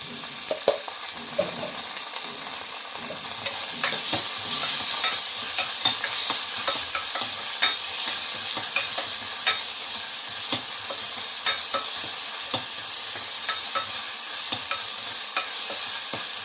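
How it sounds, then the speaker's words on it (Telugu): Ginger garlic paste, green chillies and onions fry in a pan for a gongura mutton fat curry, a dense continuous sizzle that grows louder after a few seconds, with frequent stirring clicks and scrapes throughout. "కొంచెం ఎర్రగా అయ్యాక ఆనియన్స్ కొంచెం రెడ్ కలర్ వచ్చేంత వరకు వేపాలి"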